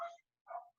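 A dog barks twice in a house, two short separate woofs that sound fairly faint and a little distant, with no talk over them.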